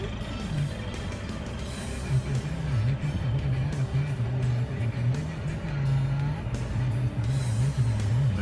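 A Ford Ranger XLT pickup with manual gearbox, lifted two inches for off-road use, idles steadily close by. The engine holds a low, even rumble with slight wavering revs throughout.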